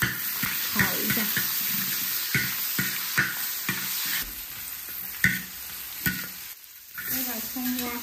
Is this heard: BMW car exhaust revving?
no